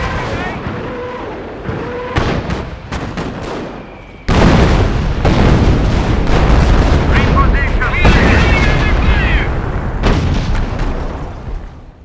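Rocket artillery firing and shells exploding in the World War II strategy game Company of Heroes, with a Romanian mod: repeated booms and bursts, then a heavy sustained barrage of blasts, loud and close, with game voices calling out between them.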